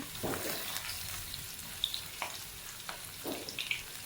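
Mutton pieces coated in masala fry in oil over a low flame, giving a steady soft sizzle with small crackles and pops close by.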